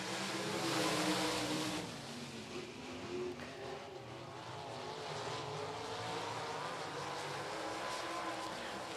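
Race cars at full throttle under green flag on a quarter-mile oval at Golden Triangle Raceway Park, a roaring pack of engines loudest at first then settling into a steady drone with faint commentary.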